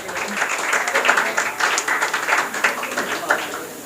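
Audience at a school prize-giving claps steadily for a first-prize winner, a dense, continuous patter of many hands at moderate loudness with faint voices mixed in.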